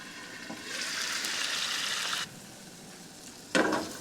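Burger patties fry in an oiled pan on the stove, giving a steady, close hiss that cuts off abruptly midway, followed by quieter background and a short burst of sizzle near the end.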